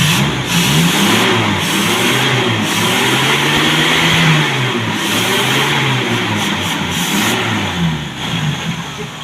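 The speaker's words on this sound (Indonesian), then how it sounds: "kita tes geber dulu" A car engine revs repeatedly during a test rev on a vehicle fitted with a dual-fuel petrol and gas kit, the pitch rising and falling in loud, close sweeps over a steady rumble, with no talk.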